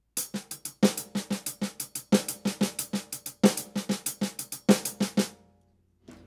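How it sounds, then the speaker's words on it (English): Steady single paradiddle drum pattern, right hand on hi-hat and left on snare, quick hi-hat strokes mixed with snare hits in a repeating sticking groove, played alone, ending with a short ring-out. "simply take the right hand that was on the snare drum and move it up to the hi-hat"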